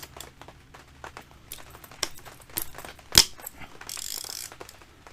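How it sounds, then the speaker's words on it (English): A ratchet works loose the tight rear brake caliper bolts on a BMW K1200R motorcycle, giving off a string of quick clicking pawl sounds, a sharp metallic clack near the middle, and a brief hiss near the end. "Kind of tight with the ratchet."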